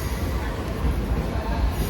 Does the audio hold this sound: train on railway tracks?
yes